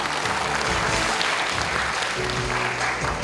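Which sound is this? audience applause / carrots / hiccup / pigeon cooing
audience applause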